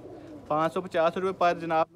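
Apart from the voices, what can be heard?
pigeons cooing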